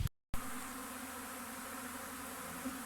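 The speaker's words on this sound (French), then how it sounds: "ça attire les foules. Hein. Je peux vous dire qu'il y a du monde" A steady, dense buzzing of many honeybees swarming around a trailer fills the air continuously, close and constant, with no voices.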